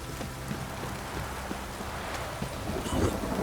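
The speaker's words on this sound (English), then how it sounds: "This downpour's a bastard," Steady heavy rain in the video game The Witcher 3, a constant dense hiss with faint low rumbles of thunder beneath and a slight swell toward the end.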